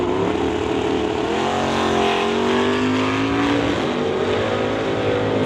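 A Chevy Camaro drag racing at an NHRA Summit ET event, a loud, sustained engine roar with rising pitch as it accelerates down the strip, steady and close with no break.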